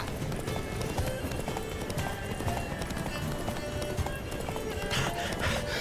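Steady clip-clop of a horse's hooves with an occasional whinny as Roach, Geralt's horse in The Witcher 3: Wild Hunt, runs along at a fast, even pace, close and continuous beneath faint ambient game sound.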